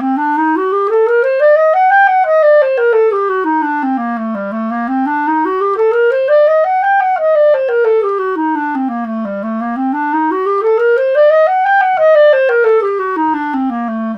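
A clarinet plays an A harmonic minor scale, climbing and descending smoothly through its registers in repeated up-and-down runs, clear and solo with no talking.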